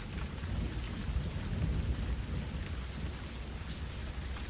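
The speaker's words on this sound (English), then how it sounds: "It begins to rain." Steady rainfall as a story sound effect, a dense even hiss of drops with soft low rumbling beneath, continuous and moderately quiet with no voices.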